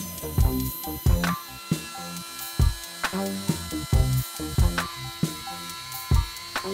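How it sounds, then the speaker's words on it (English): A plunge router trims excess wood from a reclaimed wood table top, making a whining motor hum broken by repeated rough bursts of cutting as it moves along the edges. "So I got the plunge depth set on the router, and now I'm just gonna start working to take off these edges."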